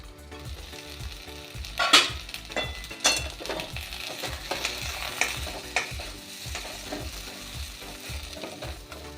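Eggplant curry seasoned with salt, turmeric and chili powder stirred in a pan, steady soft sizzling under repeated scraping strokes of a spatula at a regular pace, close up with no talking.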